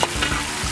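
Vegetables frying on a Firedisc outdoor cooker, a steady close sizzle with stirring scrapes, no voices.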